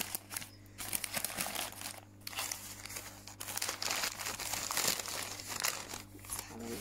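Paper from an unboxing package crinkles and crumples continuously and loudly at close range, with brief pauses and handling rustle throughout.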